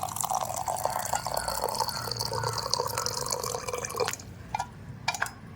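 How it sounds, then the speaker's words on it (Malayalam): Boiling water poured into a teapot for tea in Tashkent, a close trickling and splashing pour that runs steadily for about four seconds, then stops with a few brief clinks and drips at the end. "ഇതിലോട്ട് വീണ്ടും ചൂടുകൾ ഒഴിക്കുക നല്ല ബോയിൽഡ് വാട്ടറാണ്"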